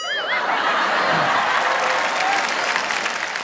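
A studio audience at a Hindi comedy show claps loudly and continuously, a dense stretch of applause with some scattered laughter mixed in.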